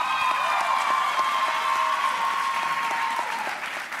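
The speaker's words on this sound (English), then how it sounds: "Please clap it up." Steady applause from a large crowd at a high school commencement ceremony fills the space, a dense wash of clapping that holds evenly and begins to fade at the end.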